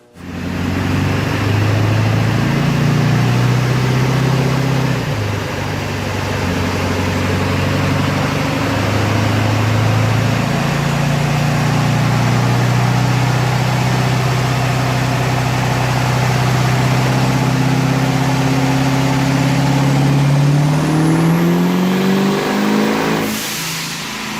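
Duramax diesel truck engine with about 400,000 miles, running on a dyno, drones loud and steady for the whole stretch, its pitch climbing and dipping through several revs before cutting off sharply at the end.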